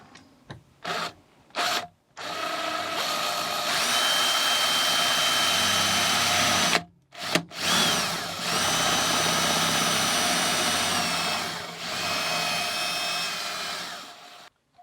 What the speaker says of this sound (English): So I've got a 6mm drill, which is where I'm going to drill here.